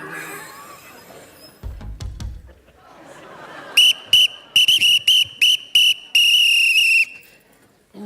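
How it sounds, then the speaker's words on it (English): After some muffled thumps and background noise, a coach's whistle in a CrossFit gym class shrieks in a rapid series of short, loud blasts, ending with one long sustained blow. "I'd just like for once to be able to blow my own whistle"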